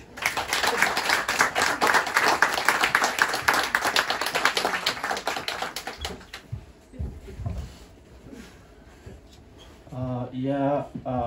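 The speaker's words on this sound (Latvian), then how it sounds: "Ar aplausiem sagaidām." A small audience at a queer poetry day event claps for a poet for about six seconds, then the room goes quiet before a voice begins speaking.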